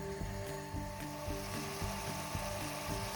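Onion and lecho with spices frying in a pan, a quiet steady sizzle with a faint rhythmic ticking repeating throughout, close and without talk.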